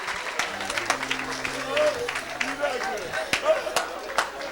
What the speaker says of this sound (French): Acclame plus fort que ça.